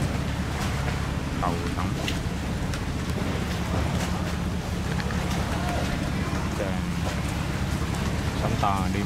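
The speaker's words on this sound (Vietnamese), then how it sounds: "Sóng to, đi mấy chiếc này đi quánh cầu rất là nguy hiểm." Rough sea waves and wind surge steadily around a small fishing boat out on open water, a constant loud rushing wash with buffeting gusts, while a voice speaks briefly over it.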